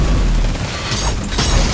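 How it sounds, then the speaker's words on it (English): An explosion in the video game Destiny 2 Beyond Light fills the clip, with a loud, dense, sustained blast and rumbling roar and no speech. "That explosion."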